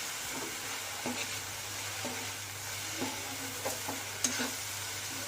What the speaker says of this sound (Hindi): और अच्छे से चलाना है ताकि ये नीचे ना लगे।